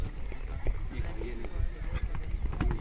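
A mare being trained for show jumping walks with steady clip-clopping hooves, heard close under a continuous rumble of background noise.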